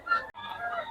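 A rooster offered for sale gives a short, loud, close crow-like call broken by a brief gap, amid outdoor ambience.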